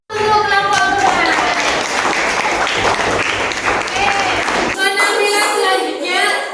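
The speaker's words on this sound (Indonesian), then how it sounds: "kasih aplaus untuk kelompok pertama" Applause for the first group's presentation in a classroom: steady, dense clapping from many hands that runs loud for several seconds and then stops abruptly. Voices and a musical tone carry on after the clapping ends.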